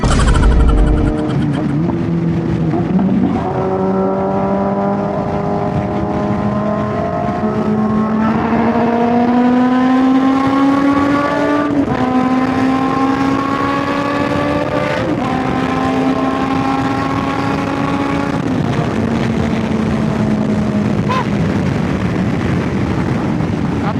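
A Ferrari sports car engine revs repeatedly, its pitch climbing and dropping in loud sweeps over steady road noise, close by.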